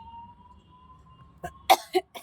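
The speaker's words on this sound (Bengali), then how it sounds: "একটু কাশি আছে, জানো তো, একটু কাশিও হচ্ছে।" Three sharp coughs in quick succession near the microphone, following a quiet stretch with a low steady hum.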